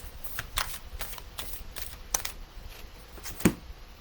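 Oracle cards are shuffled by hand during a live reading, giving a quiet, steady series of soft riffling clicks and flicks close by with no talking.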